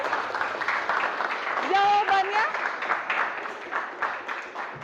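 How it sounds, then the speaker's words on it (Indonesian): Small group clapping in a classroom coaching session, a moderate patter of hands with a voice speaking over it and a brief rising vocal tone partway through. "Tepuk tangan ya."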